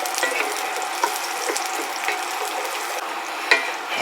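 Garlic fries in a hot pan while being stirred, a steady close sizzle broken by light scrapes and taps of a utensil against the pan.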